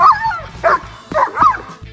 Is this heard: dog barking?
yes